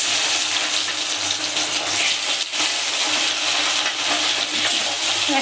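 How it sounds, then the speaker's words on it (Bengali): Fish frying together in a hot pan gives a steady, loud, close sizzle with a continuous hiss and no talk. "এই কটা মাছ তো এই কটা একসঙ্গে ভেজে নেব"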